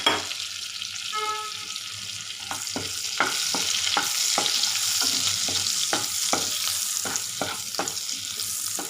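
Spices sizzle in hot butter in a pan while making paneer butter masala, with a steady frying crackle and a series of distinct scraping stirs of a spoon against the pan, close and clear without talk.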